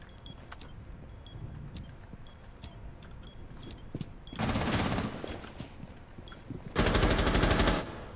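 Gunfire in the tactical shooter Rainbow Six Siege: scattered single shots at a distance, then two loud, close bursts of rapid automatic fire, each lasting about a second.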